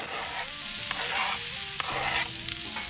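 Onions sizzling steadily on a hot Blackstone griddle, a dense continuous fry with occasional sharper crackles and soft spatula scrapes, close and alone with no talking.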